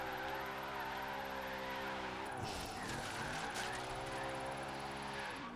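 A Rocket Bunny Lexus RCF drift build in Forza Horizon holds a steady, sustained engine drone while drifting, with a brief tire squeal and scrubbing partway through.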